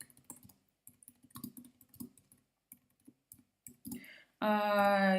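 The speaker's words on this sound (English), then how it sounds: "So this comment will go directly to Aruna, to your student. You can write here, thank you for the lesson." Close, light tapping on a computer keyboard comes in irregular bursts as a short comment is typed, followed by a sustained tonal hum at the end.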